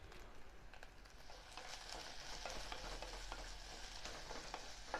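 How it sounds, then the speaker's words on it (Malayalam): Curry leaves hit hot oil and sizzle quietly, a soft, continuous crackle with scattered small pops that grows slightly fuller partway through, with no speech. "കറിവേപ്പിൻ്റെ അരി ഇട്ട് കൊടുക്കുകയാണ്."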